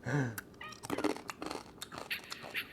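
A pet cat meows softly a few times indoors in a home, brief and fairly quiet.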